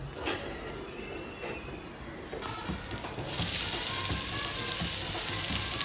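Green chillies fry in a pan for a bombil (Bombay duck) burji breakfast, giving a steady close sizzle that swells louder and brighter partway through and then holds.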